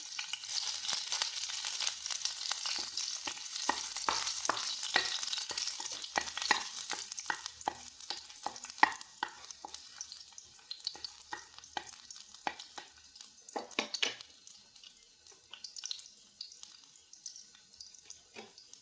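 Chopped garlic fries in coconut oil, a hissing sizzle that fades gradually, punctuated by quick scraping and tapping from the stirring utensil.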